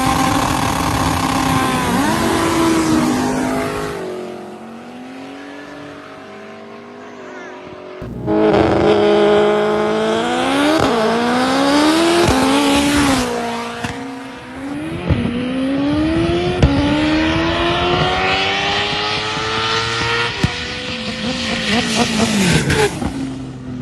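A 1300 hp Honda Civic race car with a K20 engine accelerating hard on the street, screaming through repeated rising revs and gear changes, loud and close with brief lifts between pulls, tire spin, and voices occasionally under the engine.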